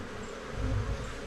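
Honeybees fly around an opened queenless hive in a winter apiery, a soft, continuous buzzing drone close by with no voices.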